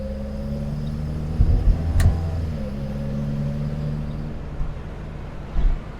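A 1960 Standard Vanguard Vignale being driven in Australia, steady low engine drone and road rumble from inside the cabin, with a few brief knocks and bumps.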